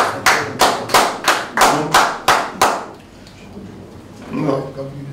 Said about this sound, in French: Applaudissez pour les partenaires.